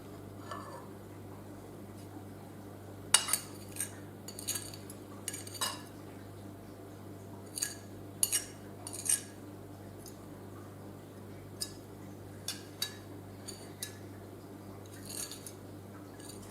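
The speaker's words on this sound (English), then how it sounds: "Stirring in the poppy seeds and the orange rind." Poppy seeds and orange rind stirred into cake batter, soft quiet scraping with repeated light clinks of a utensil against a bowl, close and intimate, over a faint steady hum.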